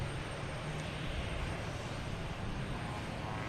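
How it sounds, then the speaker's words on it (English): Cape Air plane taking off at Boston Logan Airport, heard as a steady, broad engine roar that stays loud throughout. "That must be a Cape Air, which is right in front of us."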